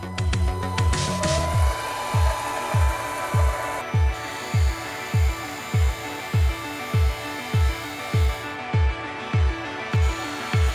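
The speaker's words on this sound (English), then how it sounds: "If you ever find yourself in a position where you have to use a lathe like this" A makeshift lathe running a part for an XXL LEGO go-kart build, with a steady motor whine under a regular repeating thump roughly twice a second, close and loud, with no voices.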